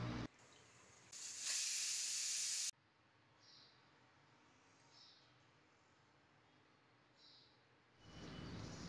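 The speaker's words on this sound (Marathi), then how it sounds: "कुकरच्या 4 ते 5 शिट्या होऊ द्यायच्या." Pressure cooker on the stove while small potatoes boil, letting off a loud burst of hissing steam for about a second and a half, then quieter short whistling hisses recurring at intervals, with another surge of steam at the end.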